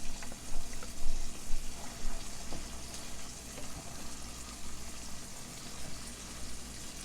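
Chopped onion sizzles in leftover beef fat in a pan for shepherd's pie gravy, a faint, steady crackling hiss with soft bubbling swells, heard close and without talk.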